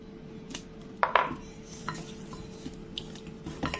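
Ingredients are mixed in a small pot that holds about 80 ml, producing a few sharp clinks and light scraping knocks, close up and sparse, over a quiet background.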